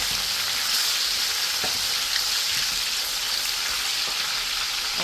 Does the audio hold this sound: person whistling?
no